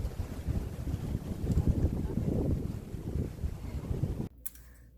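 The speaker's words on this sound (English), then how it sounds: "it's a bit breezy out here today" Strong wind buffets the microphone in loud, rumbling gusts, then cuts off abruptly near the end into near silence.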